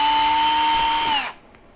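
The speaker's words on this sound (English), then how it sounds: "So I will take my drill, put an 1/8 inch bit in it" Power drill fitted with a 1/8 inch bit drilling straight through a prototype piece, a loud steady high whine with a falling pitch as the bit exits, then stopping abruptly into near silence.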